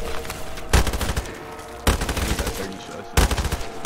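Three bursts of rapid pistol gunfire in a Call of Duty Zombies match, each a dense, loud volley of shots, spaced about a second apart over steady game noise.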